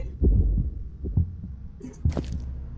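Heartbeat in the horror video game The Mimic: heavy, low, muffled thumps pulse irregularly, with faint eerie tones above and no talking.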